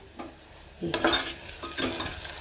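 Onion, a single chilli, ginger and garlic frying in oil with cumin: a quiet pan that bursts into louder sizzling and stirring scrapes partway through, close by with no talk.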